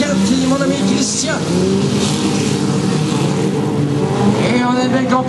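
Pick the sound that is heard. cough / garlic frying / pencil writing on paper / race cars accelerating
race cars accelerating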